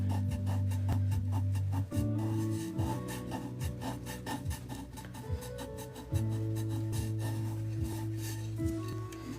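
A thumb burnishes pastel roses on paper, producing a close run of rhythmic dry rubbing strokes over steady background music.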